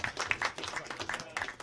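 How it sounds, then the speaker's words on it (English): Sparse, fairly quiet applause in a county legislature meeting room, a handful of people clapping unevenly in short irregular bursts. "I'd just like to give him a round of applause for the great job that he did"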